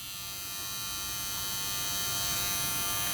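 An Andis beSPOKE electric hair trimmer gives a steady buzz with a low motor hum, running continuously, fairly quiet and close, holding level without any voices.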